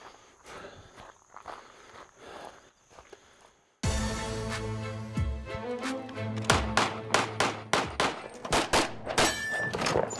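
Rapid handgun shots ring out at a desert shooting competition stage, a sharp burst of loud close cracks following quieter ambient sound with a few faint taps.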